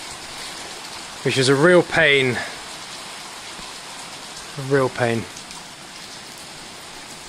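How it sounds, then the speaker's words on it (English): Heavy rain pours steadily onto a timber frame build site, a dense continuous hiss throughout, with someone speaking briefly twice over it. "now at 5 to 4 it is chucking it down again"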